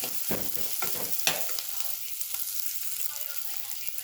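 Onions and mashed potato frying in oil, a close, continuous crackling sizzle with a few scraping stirs early on, steady and moderately loud.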